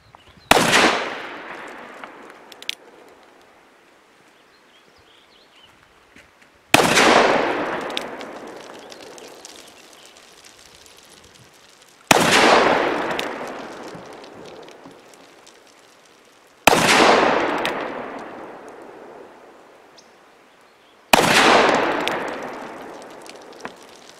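An Uberti 1873 Cattleman revolver in .45 Colt is fired outdoors, five loud single shots spaced several seconds apart, each with a long echoing decay and no talk.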